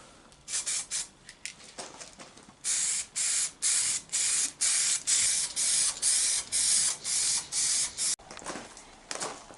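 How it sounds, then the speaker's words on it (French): An aerosol spray can applies a second coat of paint to a car's rear window spoiler: a series of short, loud hissing bursts, some longer sustained sprays, with brief gaps between, close to the microphone, no talking. "on vient de faire la deuxième couche sur l'aileron de la vitre arrière"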